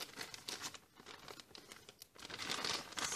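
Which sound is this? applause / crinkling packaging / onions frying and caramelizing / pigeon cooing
crinkling packaging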